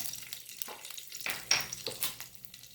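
Curry leaves, cumin and round red chillies crackle and sizzle softly in hot oil for a tempering, with a few light stirring scrapes and metallic taps.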